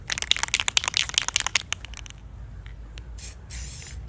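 Rust-Oleum satin clear coat sprayed onto a toy laser gun: rapid, close, hissing aerosol bursts at first, tapering to quieter intermittent spurts and short hisses.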